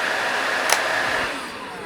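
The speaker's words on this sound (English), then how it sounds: "and then the high setting" On its high setting, a Bosch BBH3ZOOGB 28V cordless vacuum cleaner gives off a constant close whirring hiss, with a brief click near the start and a slight drop in level toward the end, no voices over it.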